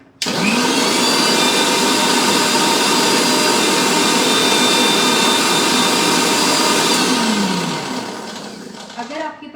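Electric blender mixing fresh cream with other ingredients in a home kitchen, a loud steady whirring motor running for about seven seconds before winding down, then brief faint sounds.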